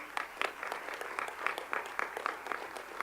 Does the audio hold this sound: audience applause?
yes